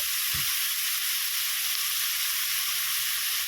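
Chicken chowmein ingredients frying over a high gas flame, giving a steady, loud, bright sizzle throughout, with one soft low knock near the start and no talking.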